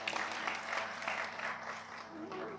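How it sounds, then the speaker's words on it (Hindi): Audience at a Shri Ram Katha religious discourse claps loudly on request, a dense continuous wash of applause with a faint voice or tone drifting underneath near the end. "जोरदार तालियां बजाएं।"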